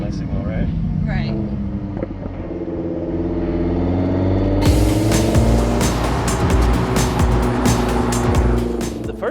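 A boosted Lamborghini sports car drives with a loud, rising engine drone that climbs in pitch as it accelerates, with road and wind noise growing; the driver talks over it.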